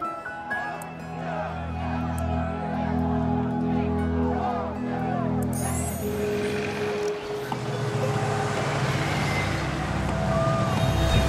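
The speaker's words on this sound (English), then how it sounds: "As you come closer to different areas of town, you'll get more traffic noises, you'll get noises of people talking, little background chatter." Busy city streets in SimCity, with a steady wash of traffic rumble and engine drone and a faint murmur of background crowd chatter running throughout at an even, moderately loud level.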